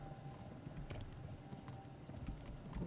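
Horse hooves beat in a steady clip-clop gallop in the medieval game Kingdom Come: Deliverance, the rapid strikes carried over a constant low rumble at moderate level with no talk.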